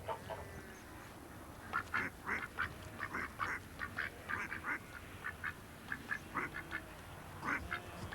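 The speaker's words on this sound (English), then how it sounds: "Grandpa likes ducks, doesn't he, Fifi?" Ducks on a farm quack in repeated short bursts, several calls overlapping in an irregular rhythm at moderate distance over a steady outdoor background hum.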